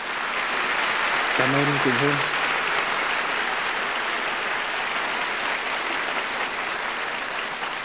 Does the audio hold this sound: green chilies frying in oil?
no